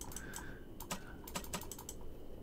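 Mouse buttons click in a horror video game, a quiet run of sharp, irregular taps spaced unevenly, some in quick pairs, over a faint low background hum.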